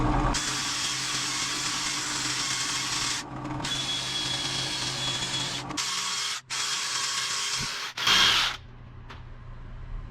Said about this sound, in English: And now I'm just gonna buff it off.